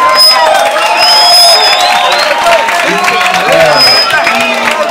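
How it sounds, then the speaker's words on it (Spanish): Concert audience at a show in Costa Rica cheering and clapping for the sound crew, a dense, steady roar of crowd noise with whoops throughout, loud and close. "aplauso para nuestros sonidistas, solamente"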